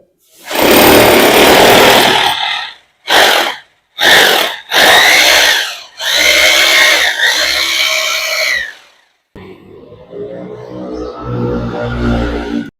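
An electric drill bores a 10 mm hole into a wall in several loud bursts, starting with one long run, then short stop-start pulses and two longer runs, ending in a quieter whirring spin. Nobody speaks.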